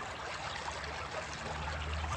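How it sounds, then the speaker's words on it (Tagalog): Steady rushing water flows continuously through the Teacher's Camp water system in Baguio City, a close, even wash of sound with no voices. "Pakinggan natin yung tunog ng tubig."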